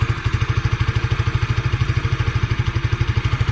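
A motorcycle engine, seven years in use, runs steadily with an even, rapid thumping pulse, close by and moderately loud, heard from behind, with no voices.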